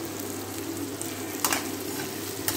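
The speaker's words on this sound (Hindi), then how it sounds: "हमारे प्याज थोड़े थोड़े फ्राई होने शुरू हो गए हैं, अच्छे रेड होने" Bitter gourd and onions fry in a pan with a steady close sizzle, broken by a couple of brief sharper scrapes or crackles, and no one talking.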